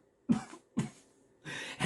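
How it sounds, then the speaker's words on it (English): Three coughs, the first two short and sharp, the last longer and harsher, close and fairly quiet against silence. "followed by a cough"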